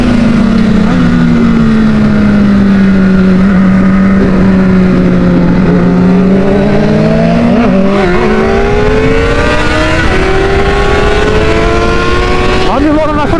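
A four-cylinder 600cc motorcycle engine drones loudly and close, its pitch holding steady and then climbing through rising revs, with a brief shift or throttle blip near the end and a voice talking over it.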